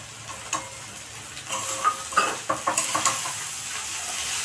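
Ghee added to a cabbage curry in a hot pan sizzles and spits, with a run of sharp crackles and stirring scrapes building toward the end.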